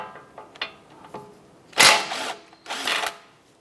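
A socket wrench with a 19mm socket loosening the nut on the outer tie rod of a 2004-2008 Acura TL, giving a few quick ratcheting clicks and two louder bursts of metallic rattling, close and alone.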